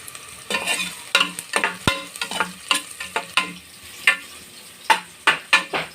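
Onion, garlic and ginger sauté in a hot pan for papaitan, sharp spatula scrapes and taps landing in a quick uneven rhythm over a light sizzle, close and loud with no speech.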